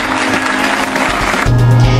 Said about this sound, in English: The auditorium erupts into applause as Professor Tia wraps up the debate.